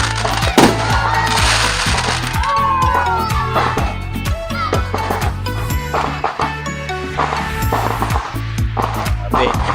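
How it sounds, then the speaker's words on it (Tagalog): Rapid, irregular New Year fireworks bangs and crackles go off continuously across Manila, heard from a mountain, loud and dense, with distant shouting and cheering mixed in. "Alam niyo yung feeling na pinanonood niyo yung fireworks ng buong Maynila?"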